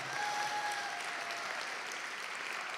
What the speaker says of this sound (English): So a big round of applause wherever you may be.